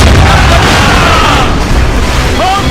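Ship cannons in Assassin's Creed Rogue boom loudly against the roar of battle at sea, with a dense rumbling wash of naval gunfire filling the whole stretch and faint shouted voices mixed in.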